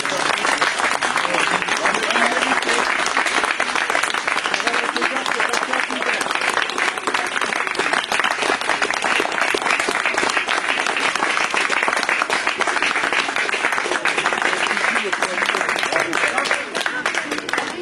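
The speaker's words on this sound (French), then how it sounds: "je pense qu'on peut faire un tonnerre d'applaudissements" Loud, thunderous applause from an audience honouring workshop artists at a cultural event, a dense continuous roar of many clapping hands lasting well over fifteen seconds with no letup.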